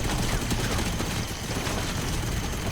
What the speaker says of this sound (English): Oh, he's shooting my guns off.